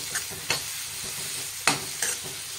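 Onions frying in a pan for a Karnataka-style bitter gourd (karela) curry, stirred with a few sharp scraping clicks over a steady close sizzle, with no talking.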